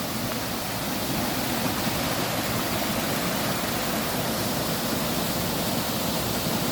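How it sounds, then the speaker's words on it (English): A waterfall near Barmouth, Wales, pours in a steady, dense roar of rushing water that stays loud and close without a break, with no voices over it. "Oh, more waterfalls."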